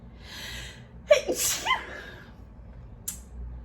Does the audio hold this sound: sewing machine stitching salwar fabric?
no